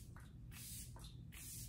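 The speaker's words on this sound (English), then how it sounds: "So I'm just going to use the Kat Von D setting spray." Kat Von D makeup setting spray is misted in three quick, soft hissing bursts close by, faint and with no talk.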